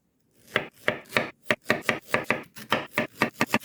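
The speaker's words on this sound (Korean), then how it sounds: "이렇게 직사각으로 썰어주는데요." A knife chops through a zucchini on a cutting board, cutting it into rectangular sticks. About fourteen crisp, close cuts come in a steady rhythm that speeds up slightly toward the end, with no talking.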